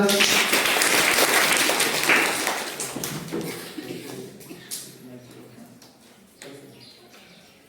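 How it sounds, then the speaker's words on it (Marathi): A school audience claps loudly together at a Republic Day event at a village school, a dense wash of applause that holds steady for a couple of seconds then thins out and fades, with some voices beneath. "टाळ्या वाजवा एकदा"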